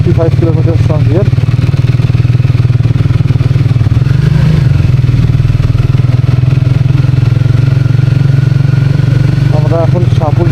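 A Speed 400 motorcycle's engine hums steadily while riding at an easy pace on the road from Kolkata toward Taki, a continuous loud drone with wind, and a voice speaks briefly over it near the start and end.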